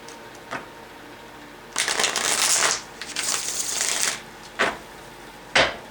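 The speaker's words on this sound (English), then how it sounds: "I do love how these cards shuffle" Tarot cards being shuffled close up, with several crisp riffling bursts of a second or so, then short sharp flicks, all quiet and with no talking.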